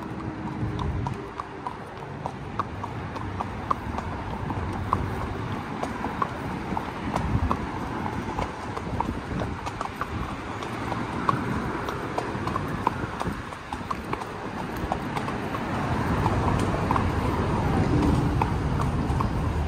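Ridden horses walk under a freeway on the way into town, their hooves clip-clopping in a continuous uneven rhythm against a loud echoing traffic roar.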